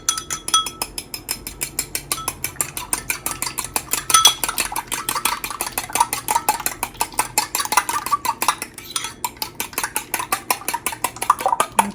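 Four large eggs are whisked briskly in a bowl for a bundt pan stuffing, with a fast, even rhythm of clicking strokes against the bowl's sides that continues throughout and is close and clear.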